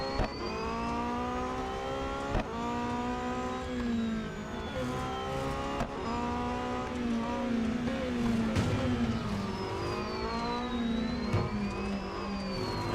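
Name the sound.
race cars accelerating in video game Real Racing 3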